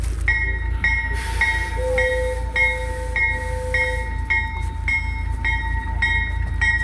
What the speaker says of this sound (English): We're going to back the train up